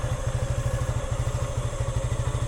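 A Suzuki Gixxer 155 motorcycle idles right after an oil change, its single engine thumping in a steady, even, close-up pulse that runs throughout with no one talking.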